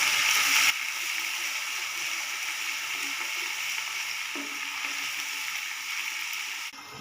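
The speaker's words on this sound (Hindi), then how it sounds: "अदरक लहसुन का पेस्ट मैंने डाल के इसे 1 मिनट के लिए भून लिया है" Ginger garlic paste frying with onions in a pan, a steady broadband sizzle that holds evenly throughout, louder at the very start and dipping near the end, with no voices over it.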